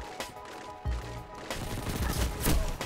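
Shotgun and SMG fire in the video game Destiny 2, a few heavy blasts followed by a dense run of rapid shots, loud and close with no talking.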